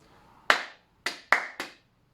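Four sharp hand claps in a crotchet, two quavers, crotchet rhythm, close and crisp, each followed by a short room decay, with no talking.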